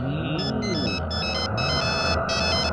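A phone ringtone plays continuously, a bright repeating electronic melody, close and steady, over a low hum.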